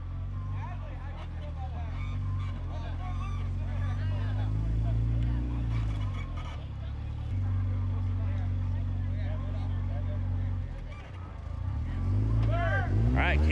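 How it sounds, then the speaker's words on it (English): A race car with a noisy drivetrain runs in a night race at Dayton, a steady loud engine drone with rising revs near the end, under continuous commentary. "there is definitely something making some noise in the drivetrain of that car"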